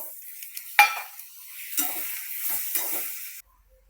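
Tomatoes sauté in a pan with a gentle sizzle, opened by a sharp metallic clink and followed by soft stirring scrapes before everything stops abruptly into near silence.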